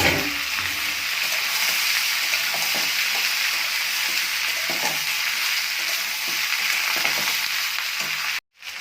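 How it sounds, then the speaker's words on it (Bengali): Taro, potato and onion fry in fat over a high gas flame, making a dense, loud sizzle with stirring sounds that run continuously before a brief cut near the end; nobody speaks. "চর্বিটা দিয়ে ভালো করে ভেজে নেব"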